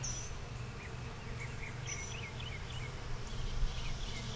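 Honeybees hum steadily inside a small nuc hive box during a frame-by-frame check, a constant low drone with faint higher buzzing flickers drifting through it, close and even throughout.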